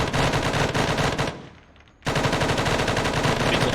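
Machine guns fire in the video game Arma 3, loud sustained rapid bursts that stop briefly and then resume at full intensity, dense and close.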